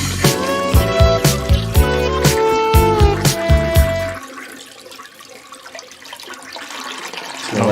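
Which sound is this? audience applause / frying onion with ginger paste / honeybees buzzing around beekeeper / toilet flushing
toilet flushing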